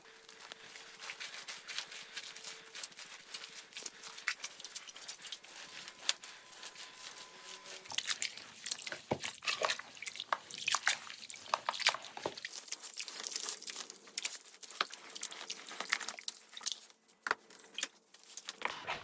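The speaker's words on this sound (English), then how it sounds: "and after I will crush the grapes" Grapes for homemade natural red wine are crushed underfoot, giving a steady stream of wet squishing, popping and dripping sounds, close and fairly quiet, with a brief tonal hum early on.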